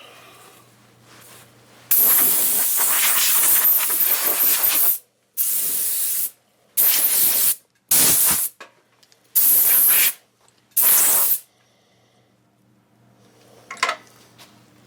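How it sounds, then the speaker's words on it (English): Compressed air blasts off a lathe shaft during the turning of a hybrid pizza cutter handle: one long hissing spray, then five shorter sharp bursts separated by silence, loud and close, with faint workshop noise at the end. "Got compressed air in your shaft. It helps to get rid of all of this."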